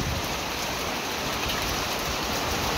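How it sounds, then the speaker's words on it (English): Steady, heavy rain pours down on a stormy day, a constant close hiss of drops hitting surfaces with no pauses and no voices. "Another rainy, stormy day."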